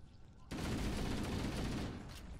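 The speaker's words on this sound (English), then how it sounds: "just take this 60 round fully automatic weapon that like one-shots all of them" Fully automatic rifle fire from a 60-round weapon in a Halo campaign: a loud, continuous burst of rapid shots begins abruptly and rattles on for about a second and a half before stopping, with a voice faintly underneath.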